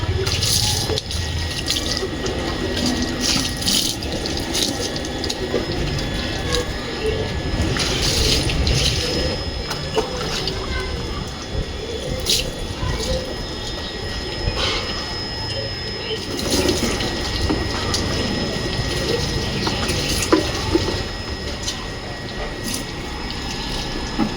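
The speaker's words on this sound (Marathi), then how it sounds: "तर आता फिलहाल सगळीकडून आपण पाणी मारून घेऊया।" Water sprayed all over a very dirty motorbike during a wash outdoors, making a continuous splashing, hissing wash of water with dripping. Faint voices can be heard now and then in the background.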